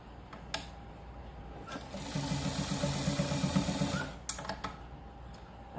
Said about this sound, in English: I'm going to stitch that to secure it right there.